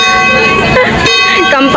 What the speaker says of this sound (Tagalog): Kampana na simbahan pa.